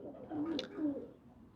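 Pigeons coo on a rooftop, a single low, soft cooing call with a brief sharper bird note in the middle, fairly faint and alone.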